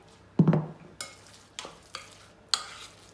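Spatula folding whisked egg whites into a courgette and feta mixture in a bowl, a few soft separate scraping strokes, close and quiet with no talk.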